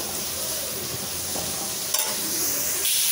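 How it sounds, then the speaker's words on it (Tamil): Onions sautéing in a pan with salt, a soft continuous sizzle with faint stirring scrapes, close and steady, with a brief clink near the middle and no talk. "வெங்காயம் வதங்க கொஞ்சம் உப்பு போட்டு நல்லா கலந்து விட்டுக்கலாம்."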